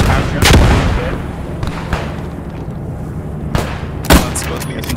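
Grenade blasts and gunfire in the World War II shooter Post Scriptum (Squad 44), set at Rethymno with Greek forces: several sharp, loud booming bursts spaced apart over a background of distant battle noise.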